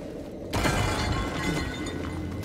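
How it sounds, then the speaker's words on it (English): Pots smash in the Star Wars Jedi: Fallen Order video game, a single loud, close crash of shattering pottery followed by a scattering clatter of debris that trails off over a couple of seconds. "Surely they won't hear me smashing their pots."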